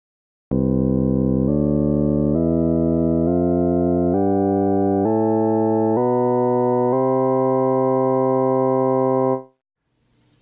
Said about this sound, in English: And here is that sound played as a C major scale.